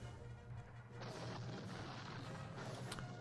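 Distant artillery fire in a Napoleonic-era war strategy game, a faint run of rumbling cannon booms and cracks over a steady low background hum.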